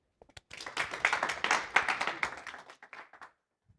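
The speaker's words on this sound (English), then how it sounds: "I'd like to invite you to give a warm applause to our guest" Applause welcoming a guest lecturer at a talk on web search, a small audience clapping for about three seconds, rising quickly, staying fairly dense, then thinning to scattered claps and stopping into silence.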